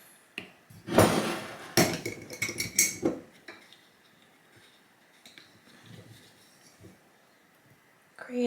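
Scoops of MyProtein creatine and glutamine powder taken from small jars, heard as a cluster of close clinks and scrapes of scoop against jar, then quieter taps and rustles with faint gaps.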